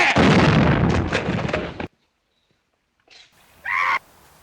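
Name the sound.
20mm air rifle firing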